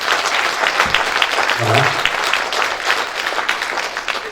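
An audience at a live comedy show claps in a sustained burst of applause, with a voice briefly speaking over it.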